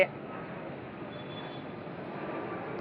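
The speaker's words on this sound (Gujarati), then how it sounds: "વિમાન જાય છે દુબઈ" A passenger jet bound for Dubai passes high overhead, a faint, steady distant engine roar heard from a rooftop during kite flying, continuous and unchanging throughout.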